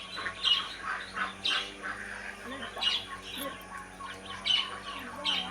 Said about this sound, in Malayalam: ഇത് സൺകോണൂരാണ് കേട്ടോ